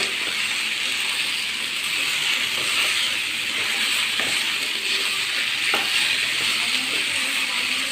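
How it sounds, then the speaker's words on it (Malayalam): Beef mixture frying and being stirred in a pan gives off a steady, close sizzle throughout, with a few faint scrapes and taps of the utensil against the pan. "നല്ലോണം ഇളക്കി കൊടുക്കുക"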